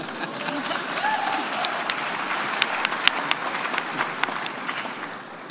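Applause at a UN climate summit, a large crowd clapping continuously with sharp individual claps popping out, fading slightly at the end, with a voice faintly under it.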